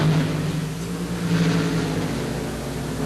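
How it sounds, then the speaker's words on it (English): A loud, continuous engine roar comes from a drag racing car with an aluminum Rodak replica of a Chevrolet engine at the 1976 NHRA World Finals. It sounds steady and heavy throughout, with no speech. "the John Rodak car using the new Rodak engine, an aluminum replica of a Chevrolet engine used exclusively for drag racing"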